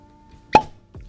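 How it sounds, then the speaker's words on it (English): A cork pops out of a bottle of William Heavenhill 12 Year Barrel Proof Bourbon, one sharp, close hollow plop, followed by a faint scrape afterward, with no talk. "Pause for cork pop."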